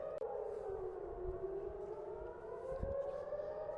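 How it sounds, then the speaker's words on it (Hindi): A civil defense air raid siren wails steadily, its pitch slowly sliding in a long continuous tone, with low rumbling background noise. "मिसाइल अटैक लॉन्च किया जाता है तो सायरन बजती है,"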